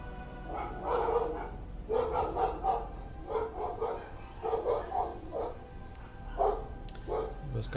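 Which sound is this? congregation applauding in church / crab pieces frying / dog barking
dog barking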